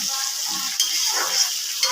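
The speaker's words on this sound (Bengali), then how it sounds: "এটা বসিয়েছি করলা ভাজা" Sliced bitter gourd fries in a hot iron wok with a steady, close hiss of sizzling oil, punctuated by a couple of brief stirring scrapes.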